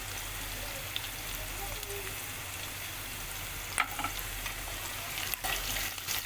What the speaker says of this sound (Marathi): आपण कढीपत्ता टाकलाय, मस्त हलवून घेऊया.